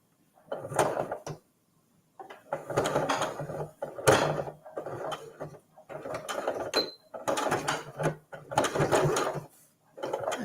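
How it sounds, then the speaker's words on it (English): A sewing machine stitches the edges of a microwaveable mug cozy, pivoting at the corners. Close, steady mechanical runs come in repeated bursts of a second or so, separated by brief pauses. "stitch across the short end, and then pivot and stitch this open edge to close it up"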